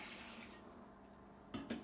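Water poured into a Ninja Foodi pressure cooker while cooking potatoes: a steady, soft splashing stream close by, quiet overall, ending with a couple of louder splashes.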